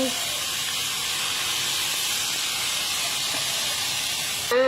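Water drizzled into a hot pan of tofu sends up a steady, loud hissing sizzle that holds evenly for several seconds, close and alone, with a short clatter at the very end.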